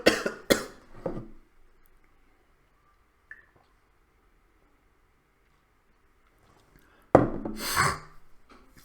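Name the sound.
coughing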